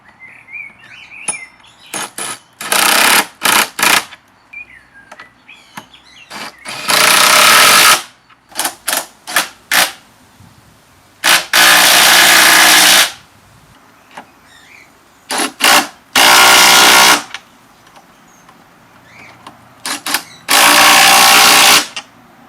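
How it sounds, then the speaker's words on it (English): Impact driver running nuts onto bolts during a hot tub build, heard as about six loud, harsh rattling bursts of a second or two each, separated by quieter pauses with faint clicks and handling noise. "My apprentice will now demonstrate putting nuts on bolts with the impact driver."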